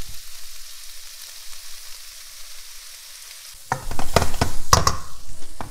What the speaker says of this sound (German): So, jetzt gebe ich Kichererbsen zu. Und jetzt kommt mein Curry.